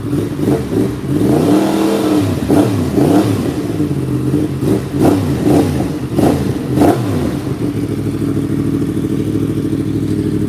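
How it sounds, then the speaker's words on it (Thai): Yamaha motorcycle with a CP4 crossplane engine in R1 style, a 2020 registered black bike, revving close up in a series of sharp rising blips over a lumpy idle, then settling into a steady rumble. "ใครชอบสไตล์เสียงเครื่อง R1 นะครับ"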